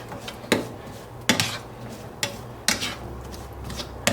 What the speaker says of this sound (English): Toss these to coat with the butter.